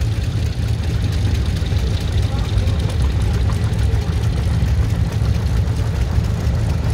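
A 1953 Cockshutt 20 tractor engine runs steadily during a farm club tractor parade, a loud low rumbling idle with a continuous uneven chug close by.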